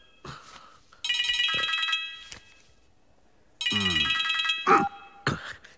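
A telephone ringtone rings in two loud electronic bursts separated by a pause during a Malayalam comedy film scene, with short clicks and tones between the rings.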